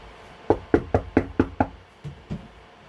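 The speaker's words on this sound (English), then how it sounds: "Alright, so I'll just go knock at his door." Knocking on a door in a farming video game: six quick, evenly spaced sharp raps, then two softer knocks after a short pause, close and clear against a quiet background.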